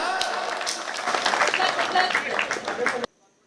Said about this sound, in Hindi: एक बार जरा जोरदार तालियां बजाओ।